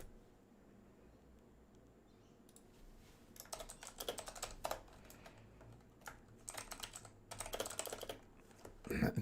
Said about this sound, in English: I should stop typing while I'm talking.